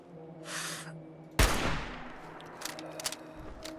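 A single sharp gunshot in Fallout 4 Survival Mode cracks out and fades, followed by a few fainter scattered pops, with no talk.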